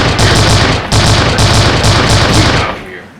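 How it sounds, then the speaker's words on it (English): Rapid bursts of gunfire sound effects played on a podcast, loud and dense with repeated sharp cracks for nearly three seconds before cutting off abruptly. "Some gunshots."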